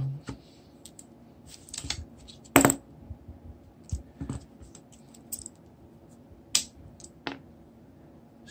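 Small tools click, scrape and tap on an Alexa smart speaker's plastic casing as it is pried apart, with sparse, irregular close-up clicks and one sharper metallic snap amid quiet handling noise.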